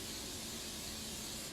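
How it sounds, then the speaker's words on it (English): Non-stick cooking spray hisses from an aerosol can into a container, one steady close burst lasting under two seconds. "You can use any kind of non-stick spray you want."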